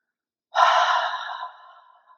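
A single deep, breathy exhale during a yoga breathing exercise, starting abruptly, loud and close, then tapering off slowly into quiet.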